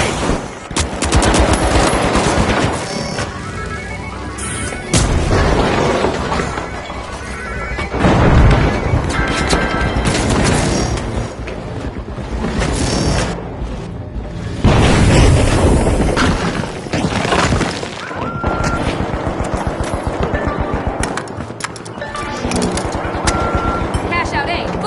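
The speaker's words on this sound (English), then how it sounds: "Throwing two grenades!" Grenades and gunfire fill a match in the shooter game The Finals: dense bursts of automatic fire and heavy booming blasts, loud and near, with brief lulls between volleys and game announcer voices over the combat.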